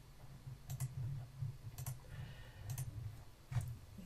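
A computer mouse clicked several times in a quiet room, crisp close single and double clicks spaced irregularly over a faint low hum, no talking.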